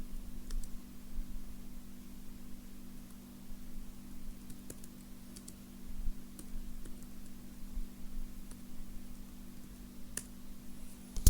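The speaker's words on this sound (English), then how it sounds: "then you have to type this command" Keys tapped on a computer keyboard to enter a Windows command, sparse irregular clicks at close range over a faint steady electrical hum, ending with a sharper keystroke.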